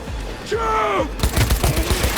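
Gunfire in Cyberpunk 2077 during a fight: a burst of rapid shots opens after a moment of groaning voice sounds, then continues as a dense volley of close, punchy bangs.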